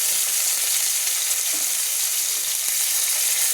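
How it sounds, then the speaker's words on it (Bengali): Bata fish frying in oil over a medium flame, a steady close hiss and sizzle that stays even throughout without voices. "দেখুন আমি কিন্তু মাঝারি ফ্লেমে দিয়ে কিন্তু মাছগুলো ভেজে নিচ্ছি"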